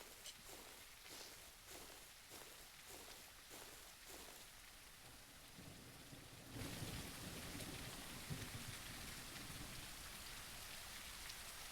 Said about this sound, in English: the sound is about right for the rain